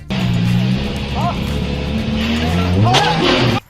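An Aston Martin's engine revs hard as it surges forward, its tires squealing sharply against the pavement in a loud, continuous burst lasting a few seconds.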